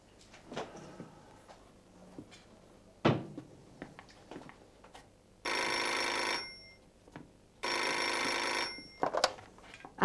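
An old-style telephone bell rings loudly in two long bursts in a home during a family dinner, with small clatter and household noises around it and no talking.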